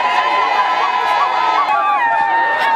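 A large crowd of men, women, old people and children in Mokambo cheers and shouts in welcome for Moïse Katumbi's delegation, a dense, loud, continuous roar of voices with whistles and high cries rising above it.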